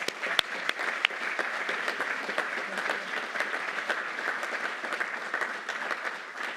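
An audience at a U.S. Army Corps of Engineers Mississippi Valley Division relinquishment of command ceremony gives a steady round of applause, dense clapping at moderate distance running throughout.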